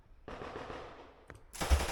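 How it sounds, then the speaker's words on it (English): Gunfire from a war video playing in the background, a dense burst of rapid automatic shots followed by a louder crack and another burst, somewhat muffled and distant. "I hear gunfire in the background"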